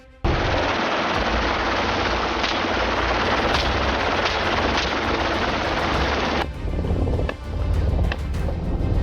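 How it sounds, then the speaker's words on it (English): Gunfire aimed at a herd of wild boars on American farmland, a loud continuous burst of shots and roaring blasts filling most of the clip before cutting off abruptly. "Four shots rang out, each one pinpoint accurate, taking down the boars."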